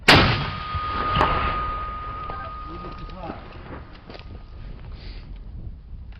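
One loud, sharp mortar blast opens, followed by a long rumbling decay and faint distant clanks and murmurs, near Myrnohrad.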